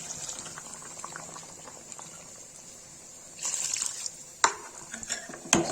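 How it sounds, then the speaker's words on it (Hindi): Water poured into a pan of fried tomato masala for a Kashmiri beans and potato curry, a steady bubbling sizzle that swells into louder splashing and hissing toward the end, close and without talk. "गाइस देखिए भून गया, इसमें पानी डाल देंगे।"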